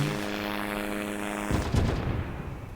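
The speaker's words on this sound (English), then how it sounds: "Nice little explosion there." Airplane crash explosion in the flight game SimplePlanes: a steady droning engine tone gives way abruptly to a loud, rumbling burst that slowly fades, with no talking.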